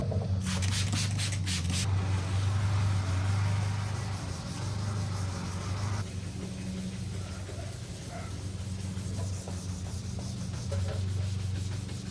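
Soft, steady scuffing of a sanding sponge rubbed by hand over the painted trunk of a 2006-10 Dodge Charger Daytona, with a low hum in the background.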